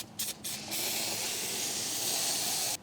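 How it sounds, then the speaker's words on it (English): Amsoil Heavy Duty Metal Protector sprays onto the center hub of a 2012 Ford F150 during a rear brake job, a few short bursts and then a long steady close hiss that stops abruptly. "using a piece of cardboard and some Amsoil heavy duty metal protector, I am going to coat that center hub"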